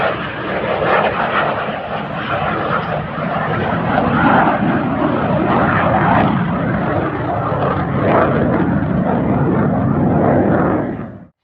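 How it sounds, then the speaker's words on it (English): Aircraft engines at RAF Valley drone steadily as planes taxi, a loud, broad, continuous roar that holds level for about ten seconds before cutting off abruptly. "We've got two taxis now ready to take off by the looks of it."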